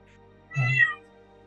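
A single cat meow, short and fairly close, rising and falling over about half a second in an otherwise quiet moment during a Cursed Heroes game session.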